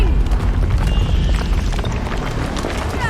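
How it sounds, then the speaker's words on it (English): A deep, rumbling boom from a bloodstone explosion in a video game fills the space, followed by a sustained roaring, crackling wash of sound with low thuds underneath. "That bloodstone explosion seemed to trigger some sort of magical echo."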